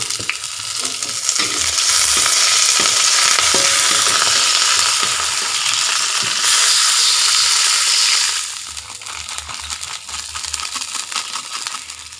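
Spring onions stir-frying in a hot pan make a loud, steady sizzle and hiss for about eight seconds. The sound then drops to quieter frying with scattered stirring scrapes, and nobody speaks.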